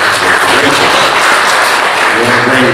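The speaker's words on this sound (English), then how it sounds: "Y'all can clap for that" A Baptist church congregation claps together in a loud, dense, continuous round that stays steady from start to finish with no voices over it.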